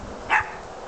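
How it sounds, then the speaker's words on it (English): A single short dog bark, fairly faint, rising briefly over a quiet background with no talking. "Good dog, Oliver."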